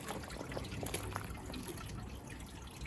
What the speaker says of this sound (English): that's tied in with the automatic drip system